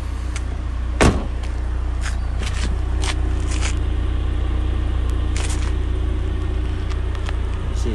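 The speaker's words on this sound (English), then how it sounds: "get a video of the car running." A Ford Fiesta 1.6 Metal three-door with a 132 bhp engine idles steadily with a low, even rumble, interrupted near the start by a sharp thump like a door closing and a few light clicks and rattles.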